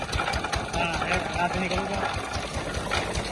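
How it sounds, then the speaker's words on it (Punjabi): A small engine drives a sugarcane crusher at a village jaggery-making setup, chugging with a steady, rapid idle-like knock close by throughout. "ਲੋ ਜੀ ਇੰਜਨ ਚਲਾਉਣ ਲੱਗੇ ਡੈਡੀ ਹੁਣ ਲੋ ਜੀ ਚੱਲ ਪਾ ਇੰਜਨ"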